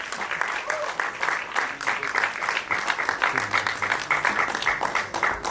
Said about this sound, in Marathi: जोरदार टाळ्या दोघांसाठी.